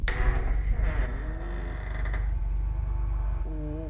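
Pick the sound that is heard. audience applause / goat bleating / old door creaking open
old door creaking open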